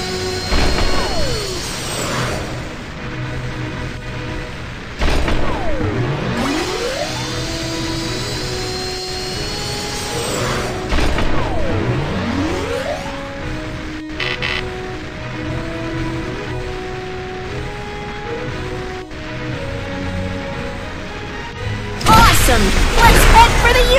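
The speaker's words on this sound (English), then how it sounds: "Press the button and launch the rocket. 3, 2, 1, blast off! Press the button to accelerate the rocket." A cartoon rocket blasts off and speeds up in the Baby Panda space game: a loud, sustained whooshing roar with sweeping rising and falling tones and bursts of synthetic effects, set under bright game music.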